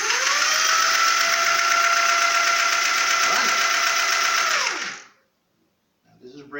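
An oDyno electric bike drive motor runs under the throttle with a loud, steady whine, then winds down and stops near the end. A short voice follows the silence.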